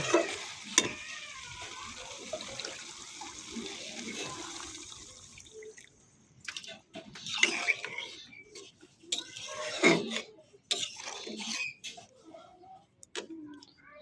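Prawns sizzling in a pan of curry masala as they are stirred, a steady hiss at first giving way to intermittent scraping and clattering stirs, with faint voice sounds in places.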